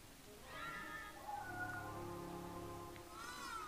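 A cat in the video game Tsioque lets out a drawn-out, wavering meow followed by a short second cry, fairly faint over a quiet game background.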